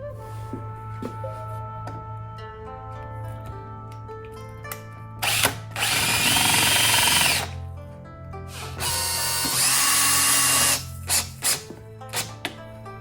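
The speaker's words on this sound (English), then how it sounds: "If I was to drill this all the way to here" A power drill whirs loudly in two long bursts, biting into glued jacaranda wood, with short trigger blips and quieter tool handling between them; no talking.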